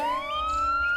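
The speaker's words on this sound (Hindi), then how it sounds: "तभी दूर से पुलिस की गाड़ी की आवाज आई" Police car siren, a loud close wail rising steadily in pitch over a brief second, with no talking.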